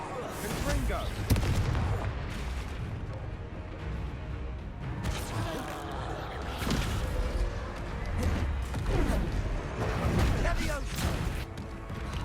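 Confringo blasting spell cast in the Hogwarts Legacy video game, a series of loud explosive booms and crashes over dense, continuous battle noise, with voices calling out during the fight.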